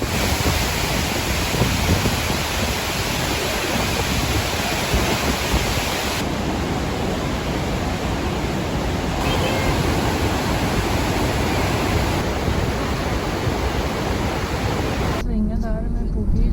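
A loud, constant rush of falling water from Låtefossen, a twin-stream waterfall in Norway, roars without pause, broadband and close, with a brief change in tone near the end.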